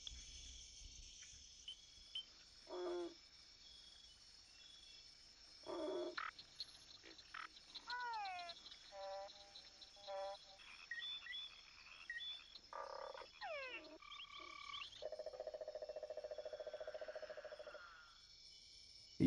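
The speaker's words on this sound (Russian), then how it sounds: "Громким кваканьем самцы привлекают самок." Male frogs croak in short bursts and trills during mating season against quiet background chirping, several calls spaced irregularly, some close and some farther off.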